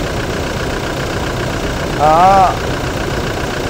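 A used 2017 Toyota Fortuner with a manual gearbox idles its diesel engine in a steady, even drone, with a person briefly speaking over it.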